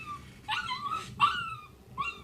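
A dog whimpers and yips in three high, strained bursts, close and fairly loud over a low background rumble.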